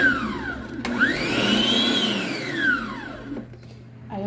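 A blender whirs for a moment on a batter of wheat flour and milk. The motor rises in pitch, holds, then winds down, loud and close, with no talking.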